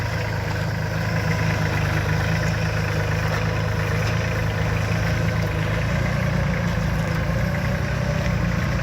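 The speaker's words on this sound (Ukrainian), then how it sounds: "Трактор індійського виробництва" A Solis 26 mini tractor engine, built by Sonalika in India, idles continuously at close range, a steady low rumble with a rattling mechanical chug throughout.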